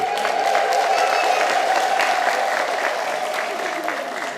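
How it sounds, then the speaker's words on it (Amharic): Crowd at a church charity feeding event ululating in thanks for donors from Australia, a dense, loud, sustained shrill trill with applause-like noise throughout. "እስኪ አመስግኗቸው እልል ብላችሁ።"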